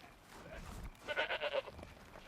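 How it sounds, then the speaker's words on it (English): Goats in the video game Horizon Zero Dawn bleat in a quick burst of four or five wavering calls over faint game ambience, moderately close. "So many goats."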